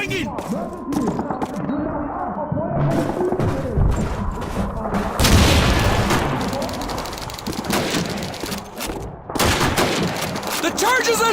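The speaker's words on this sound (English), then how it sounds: "One grenade going in!" Call of Duty 2 battle, with dense bursts of gunfire and a loud blast from a grenade amid shouted voices, the shots cracking in rapid, irregular volleys close by.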